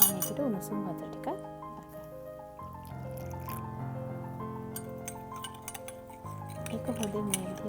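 A spoon clinks repeatedly against a cup while stirring Nescafe with sugar and warm water for whipped coffee, with quick metallic taps in bursts, faint and close, over a soft tonal background.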